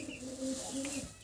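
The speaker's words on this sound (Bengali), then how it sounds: "দর্শক এক পেয়ার মডার্না কবুতর আপনারা দেখতে পারতেছেন" A pair of Modena pigeons gives soft, low, drawn-out coos close by, two or three short phrases against a quiet background.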